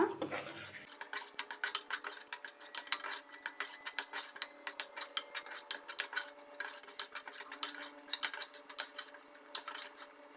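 Biryani masala with turmeric being fried and stirred in a pot, a close, rapid run of metallic spoon scrapes and clinks against the pot over a faint sizzle, with no talking.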